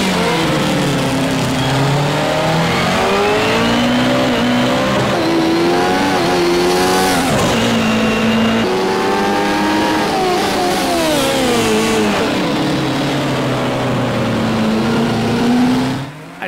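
Race car engine in the Project CARS 2 racing game at Monaco, revving and shifting continuously for the full stretch, rising and falling in pitch through acceleration and braking, loud and close with no talk over it.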